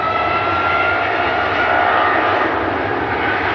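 Icelandair Boeing 757 with Rolls-Royce RB211 engines, a steady loud jet roar with a faint whine, continuous and close, no voices.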